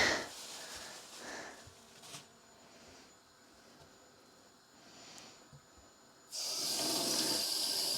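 Water rinses hand-painted cotton yarn dyed with fibre reactive dyes, quiet at first, then a loud, steady gush of running water near the end.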